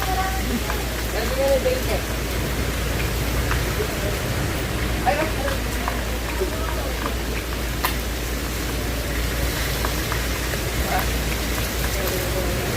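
Steady rain hisses across the whole clip, a dense wash of drops on a surface, with voices talking faintly underneath.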